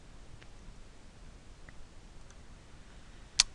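Light computer mouse clicks over a quiet room hiss: a few faint ticks early on, then one sharp, distinct click near the end, close and isolated with no talk.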